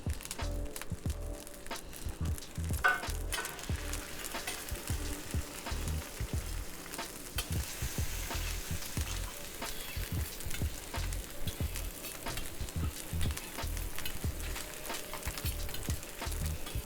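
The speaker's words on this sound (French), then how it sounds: "on met sulfut sur la poêle avec un petit peu de beurre et d'huile" A sea bass fillet fries in butter and oil in a pan, giving a steady crackling sizzle with dense popping spatters, fairly quiet and close, with no voices.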